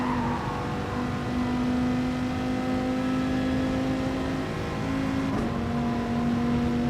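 A Dodge Viper engine in a racing video game holds a steady droning tone under power, with a brief dip and shift partway through as it keeps pulling, close and constant, with no talk over it.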